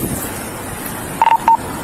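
Telephone keypad tones beep during a roadside police stop, two short clear tones in quick succession over a faint background rumble, close and loud.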